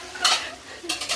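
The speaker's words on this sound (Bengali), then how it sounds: "এটার মধ্যে হচ্ছে ডিমের কোরমা রান্না হচ্ছে।" Egg korma cooking in a pot while a spoon stirs it, giving two short bursts of scraping and gentle sizzling, close and moderately loud, with no voices.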